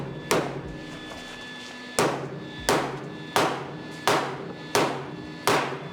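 A hammer strikes the corner of a Datsun frame rail in six sharp, ringing metal blows, close by and spaced about a second apart after an opening pause.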